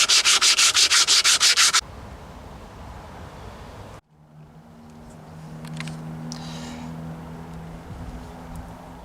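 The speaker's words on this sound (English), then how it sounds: "start sanding." Car bodywork being wet sanded flush after body filler, a loud, rapid rhythmic rasping of strokes for the first two seconds, then quieter rubbing and shop sounds follow.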